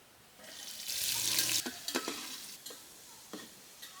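Chopped onion and chili hit the hot pan for khichuri, a bright sizzling burst that swells then settles, followed by several spatula scrapes and stirs against the pot, close and with no talk.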